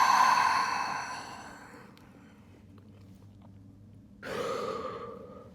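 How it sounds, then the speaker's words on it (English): A person draws a deep inhale and lets out a slow exhale during a calm stretching routine for climbers, soft close breathing with a quiet pause between the breaths. "Take a deep inhale and exhale."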